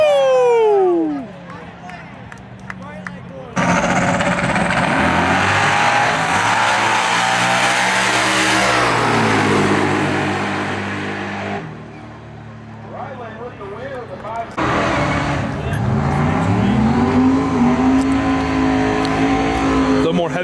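Fast street cars at a Street Car Takeover event in Houston, heavyweight class, roar off on an eighth-mile drag pass with loud, rising engine howls and shifting revs, then another car blasts past, with crowd and voices underneath.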